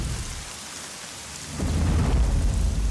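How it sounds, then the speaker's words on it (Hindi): Heavy rain pours steadily during a storm, with a deep rumble of thunder swelling in about halfway through and continuing to roll under the downpour; no voices. "रंगा, रंगा, इतनी बारिश में कहाँ चला गया?"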